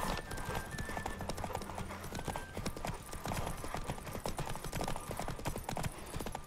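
Rapid clattering hoofbeats of a galloping horse in The Witcher 3: Wild Hunt, steady and close, with a faint tonal hum in the background.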